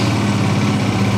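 A 2022 Sinnis GPX 125 motorcycle with a 125 cc engine idles close by, giving a steady, even, moderately loud engine drone with no talking.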